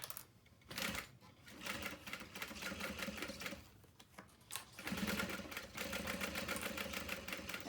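A sewing machine stitches a bag in two runs separated by a short pause, its rapid mechanical chatter near and fairly quiet, with no talk.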